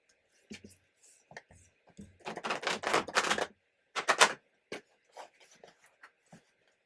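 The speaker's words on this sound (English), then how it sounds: "One more shuffle." Rapid riffling and flapping of tarot cards in close bursts, a long shuffle followed by a shorter one and scattered soft taps.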